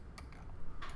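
Computer keyboard being typed on during 3D modeling work, a few soft, scattered keystrokes close by, ending in a slightly busier flurry of taps.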